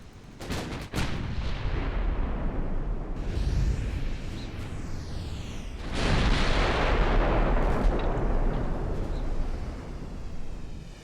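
Heavy naval guns boom in a World War I era warship battle in Ultimate Admiral Dreadnoughts, with a sharp close blast at the start and further deep booms and rumbling salvos across the clip.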